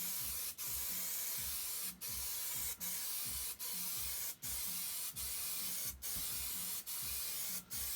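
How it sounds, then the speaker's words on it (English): A can of spray adhesive hisses in a steady spray, briefly interrupted at regular intervals about once a second, close and fairly quiet. "Nice coat of spray adhesive."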